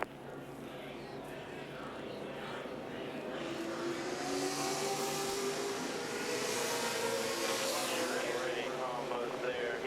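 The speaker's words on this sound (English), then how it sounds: "the drivers are going to go full throttle" NASCAR Cup Series race cars at Talladega roar at full throttle, a continuous, swelling engine drone that grows louder over ten seconds, with radio talk mixed in underneath.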